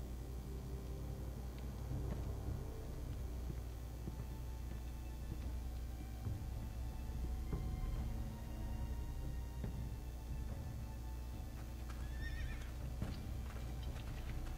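A horse in the Game of Thrones video game, Iron from Ice episode, whinnies and its hooves clip-clop steadily at close range over a low ambient game soundtrack, with no talking.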